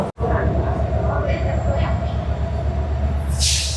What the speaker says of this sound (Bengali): এটা হচ্ছে পর্যটক এক্সপ্রেস আমরা এইটাই হচ্ছে কক্সবাজার যাব